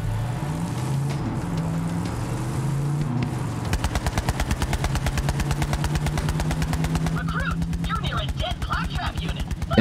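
A vehicle engine in the video game Borderlands 3 drones steadily, then shifts into a rapid, buzzing motor pulse with rising revs, loud and continuous, with some speech alongside.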